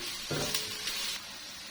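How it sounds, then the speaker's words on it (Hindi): Onion and garlic frying in a pan, a steady soft sizzle with a brief stirring scrape, quiet and close with no talking. "इसमें मैं ये 1 टीस्पून लहसुन डाल दूंगी, फिर इसको थोड़ी देर भून लूंगी"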